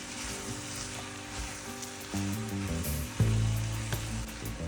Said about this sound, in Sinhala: අපි එකතු කරගත්ත බෙල් පෙපර් ටික තෙලෙන් පොඩ්ඩක් ටෙම්පරාදු වෙනකම්